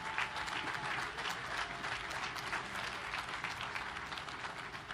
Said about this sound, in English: So big round of applause to Jack